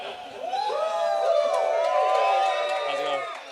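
A live convention crowd at DragonCon erupts in cheering, whoops and shouts, many voices overlapping in a loud, sustained roar that swells and then eases slightly.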